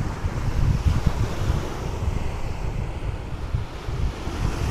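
Ocean waves at Quy Nhon beach in Vietnam in late morning, a continuous rushing surf with heavy wind buffeting the microphone, loud and steady with no voices.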